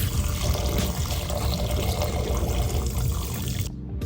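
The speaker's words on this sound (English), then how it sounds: "Be sure to wash your beef properly, as you can see me doing the video." Raw beef is washed in water in a bowl or sink, a loud, close, continuous splashing and pouring that stops abruptly at the end.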